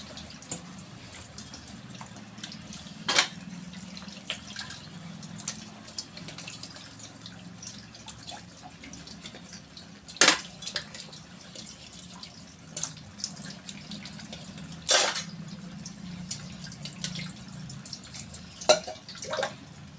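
Water from a tap runs over a copper vessel being washed, a soft continuous trickle broken by occasional sharp clinks and splashes of metal being handled under the stream.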